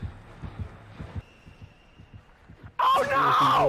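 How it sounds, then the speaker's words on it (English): A pounding heartbeat in Dead by Daylight, the killer's terror radius: slow, heavy double thumps repeating steadily, then a sudden loud burst of harsh, wailing game noise near the end. "What a heartbeat getting louder."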